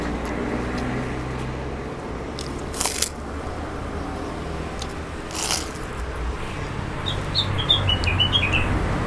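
Small, crispy Lumajang krupuk crackers crunch in two sharp bites a few seconds apart at a roadside warung, with birds chirping in the background.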